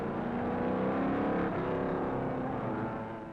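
A 1957 Maserati sports racing car cornering at the Sebring 12 Hours, a dense, loud engine roar that holds steady and then fades slightly as it passes, with no talk.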